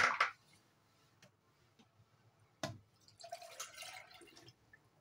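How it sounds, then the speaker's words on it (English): Hibiscus tea with ginger is poured through a sieve, giving sparse wet drips and splashes, a sharp splash at the start and a burst of trickling later, quiet and close. "We are going to sieve my hibiscus tea now."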